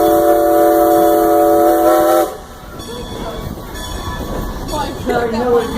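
A Strasburg Railroad train in Pennsylvania rolls along with a steady, loud rumble, and a sustained horn or whistle tone opens the clip before cutting off, leaving the rattling ride noise and faint voices.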